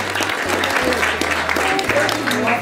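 An audience at a Polish Opłatek 2017 gathering breaks into sustained applause, a dense wash of clapping with voices mixed in, lasting a few seconds.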